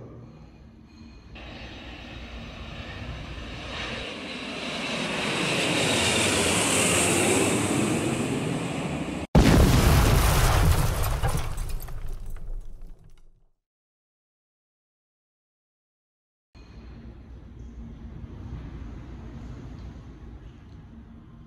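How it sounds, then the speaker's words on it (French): A roaring aircraft rumble swells, then a violent crash erupts and cuts to silence before a low wind-like drone returns. "Elle prit alors l'avion, mais celui-ci s'écrasa."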